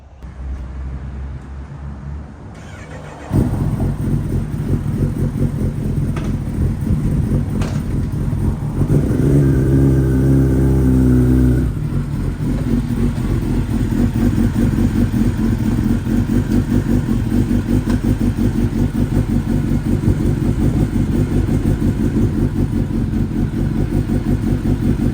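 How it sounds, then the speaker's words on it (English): A 2024 Kawasaki ZX10R motorcycle engine fires up after a moment of quiet, then idles steadily and loudly up close to warm up, with a brief rise in revs early on and no talking. "I'm gonna let the bike run for a little bit so it can warm up"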